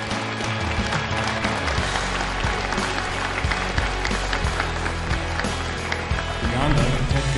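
Audience applause for finalists at an awards ceremony: dense, continuous clapping from a large crowd fills the whole stretch at steady loudness, with a few brief voices rising under it.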